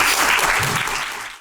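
An audience at a social economy policy forum in Korea claps to welcome the head of the Hankyoreh newspaper, dense loud applause that fades at the end.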